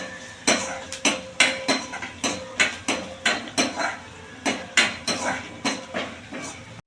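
Utensil stirring chopped onion in a pan, with a brisk run of sharp metallic scrapes and clinks repeating at a steady, slightly uneven rhythm, close and fairly loud, no voices.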